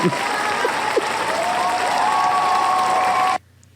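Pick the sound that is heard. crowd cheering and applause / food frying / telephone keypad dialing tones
crowd cheering and applause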